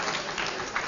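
Audience applause at a lecture, a brief dense wash of many hands clapping together in a room, steady and moderately loud.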